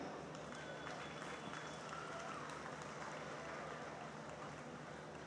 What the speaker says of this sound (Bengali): সবার জন্য একটা বড় হাততালি।